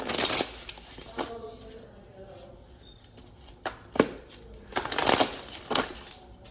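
An oracle card deck being shuffled during a tarot reading, with bursts of riffling and card slaps in several separate runs; a voice can be heard at times between them.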